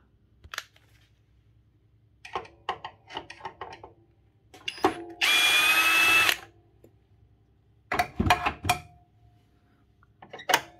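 A power drill removes a bolt from the guard linkage of a Makita saw, one sustained whirring burst of about a second amid close clicks and handling knocks, followed by more clattering of parts and no speech.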